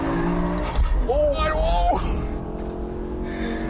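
A heavy BMW M5 E60 sliding into oversteer on a race track, its tyres squealing in a brief rising whine over the loud engine drone, with a voice talking over the car.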